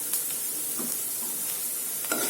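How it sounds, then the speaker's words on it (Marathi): Okra with turmeric and asafoetida sautés in a pan, giving a continuous close sizzle with soft scraping stirs throughout. "याला छान परतून घेऊया."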